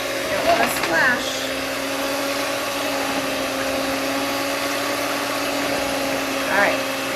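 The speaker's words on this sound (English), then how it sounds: "we're going to mix that with a mixer until it's just blended together" A steady, loud electric mixer hum runs the whole way as it blends instant pudding mix with water, with brief voices breaking in near the start and the end.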